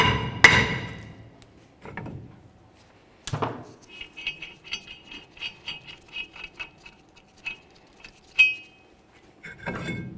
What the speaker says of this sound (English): we're going to go ahead and give it a bonk with the hammer to break it free.